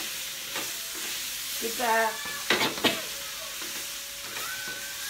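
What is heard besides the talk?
stirring and frying chicken woku in a pan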